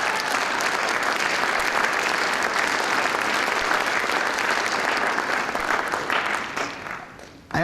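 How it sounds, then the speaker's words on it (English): Audience at a high school instrumental concert gives a long, dense round of applause that holds steady for several seconds before tapering off, with loud, close clapping filling the space. "a round of applause, please?"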